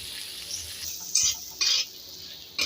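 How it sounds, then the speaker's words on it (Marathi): Cluster bean curry with turmeric, black masala and red chilli powder being stirred in a pan, a soft sizzle with a few louder scraping strokes of a spoon against metal, close by and with no talking. "आता हे छान असं मिक्स करून घ्यायचं आपल्याला."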